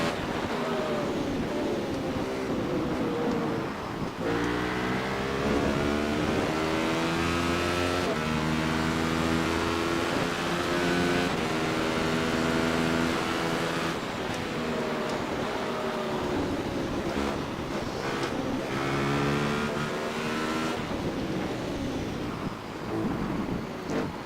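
Radical race car engine heard from inside the cockpit at Interlagos, a loud, continuous high-revving roar whose pitch climbs through the gears and drops on downshifts, with no talk.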